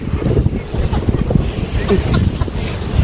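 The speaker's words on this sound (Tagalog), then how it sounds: "Ang lakas-lakas ng hangin dito" Strong beach wind at Pagudpud, Ilocos Norte, Philippines, buffets the microphone with a constant rumbling roar, gusting unevenly throughout with no other clear sounds.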